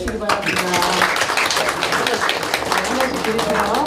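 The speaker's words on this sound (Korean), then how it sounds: "박수 쳐주시기 바랍니다" Church congregation applauding during a gift presentation at an ordination and installation service, a steady wash of clapping from a sizeable crowd, close and sustained throughout with some voices mixed in.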